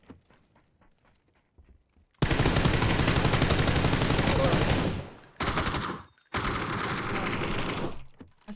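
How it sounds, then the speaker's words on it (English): A gun hip-fired in a video game lets off long, dense bursts of rapid shots in three loud stretches separated by short gaps, after a quiet start with faint clicks. "I was hip firing that"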